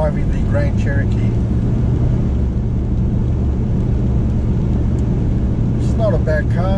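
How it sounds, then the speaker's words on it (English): Jeep Grand Cherokee driving on a road, with a steady low engine and road rumble throughout, close and loud, while people talk over it intermittently. "And I'm driving the Grand Cherokee."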